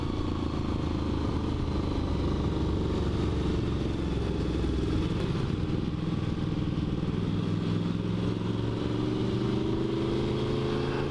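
A Honda VFR-based Despatch Tracker motorcycle with 30-year-old brakes rides along at a steady engine drone with road and wind rush, the pitch slowly rising as it pulls, close and continuous with no talk.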